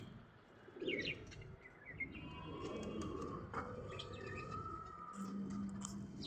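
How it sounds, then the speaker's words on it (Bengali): Domestic pigeons kept at a house in Khilgaon coo softly and low, mixed with scattered chirps and tweets from other birds nearby, fairly quiet and close. "ওনার কবুতর এগুলো"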